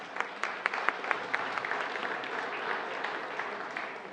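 Audience applause in a conference hall welcoming a speaker on cattle markets, a steady patter of clapping with sharp individual claps standing out, fading slightly toward the end.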